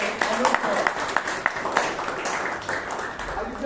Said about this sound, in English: Give a round of applause for Toastmaster Amrith